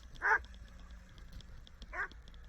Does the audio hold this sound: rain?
no